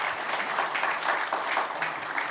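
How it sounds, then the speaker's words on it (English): Audience applause fills the room at the close of a conference expert session, a steady dense clapping wash with no break, moderately loud and even throughout. "Why don't we give all the gentlemen a big round of applause?"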